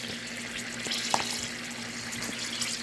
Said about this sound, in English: See how the pork chops are cooking now? They're sizzling.